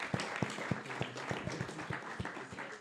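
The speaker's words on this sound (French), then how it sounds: "Je peux applaudir Baptiste qui nous a fait cette magnifique introduction" Audience applauding at a political event in Lyon: distinct claps in a loose, fairly even rhythm, faint and at some distance, over a soft background murmur.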